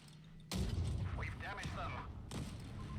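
Two loud, booming tank cannon shots in the video game WoT Blitz, about two seconds apart, each with a sharp onset and long rumbling tail, with faint voices underneath.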